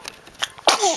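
A young child sneezes indoors while playing with a balloon: faint breathy sounds lead up to one close, abrupt sneeze that ends in a short vocal trailing sound.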